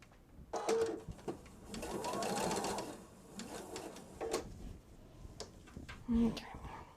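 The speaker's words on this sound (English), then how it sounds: "Back to sewing columns together." A sewing machine stitches fabric columns together for a Halloween radio wave project, its whirring coming in short bursts and one longer run, with a person talking between and over the stitching.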